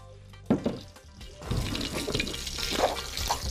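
Vinegar is poured into a marinade for an Egyptian lamb shank and okra tagine, a close, steady liquid pour that swells after a few brief knocks, moderately loud with no talk.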